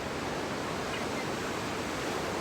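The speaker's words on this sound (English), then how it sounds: "my favorite thing to do, is just be by the beach, listening to the waves" Waves breaking at Ocean Beach in San Diego, California, heard as a steady, even roar of surf with no distinct breaks or voices.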